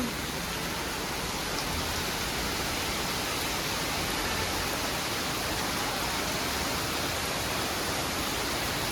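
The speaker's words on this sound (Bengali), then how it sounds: "এই যে কত বৃষ্টি হচ্ছে।" Heavy rain pours down at a seaside hotel in Digha, a dense, unbroken roaring wash that stays loud and constant for the whole stretch, with no voices.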